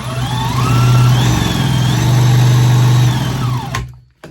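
A small two-stroke engine is pull-started and briefly runs, giving a loud buzzing drone with a steady low hum that rises and falls before cutting out abruptly near the end.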